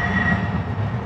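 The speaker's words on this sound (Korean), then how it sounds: "전기차 소리 한다" An electric light-rail train rolls through downtown Phoenix, a steady close rumble of wheels on track with a thin high whine held throughout, loud and unbroken by talk.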